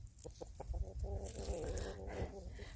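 Chickens clucking and murmuring nearby in a steady jumble of short calls, with some low background rumble.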